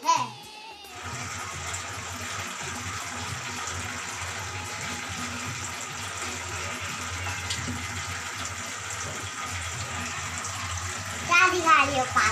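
Tap water runs steadily over hands during handwashing, a continuous close splashing stream. Children speak over it throughout.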